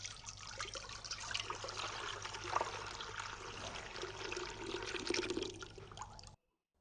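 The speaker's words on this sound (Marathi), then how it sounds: "आपण आपल्या ह्या पाणी गाळून घेऊचा" Jaggery and ginger water strained through a kitchen sieve, a steady soft trickling pour for about six seconds, close and fairly faint, ending abruptly into silence.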